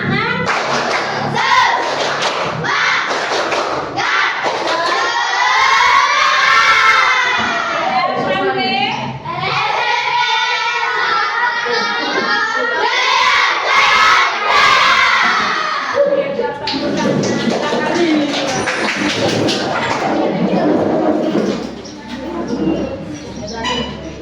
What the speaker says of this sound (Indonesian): Jadi kita sama-sama bertepuk semangat.